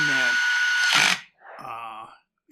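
An impact driver on a Husqvarna 550XP Mark II chainsaw tightens a muffler screw against the cylinder, sounding as two close, loud whirring bursts with a short gap between them. Voices can be heard around them.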